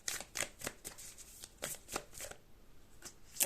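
A deck of oracle cards is shuffled by hand in a quiet room, a series of quick, crisp riffling bursts repeating at an uneven rhythm, close and fairly soft.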